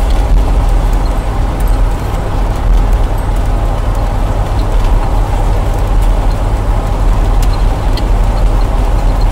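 A 1977 Corvette barn find, sitting ten years before revival, drones steadily while driving, a loud low engine and road rumble continuing evenly throughout with no talk.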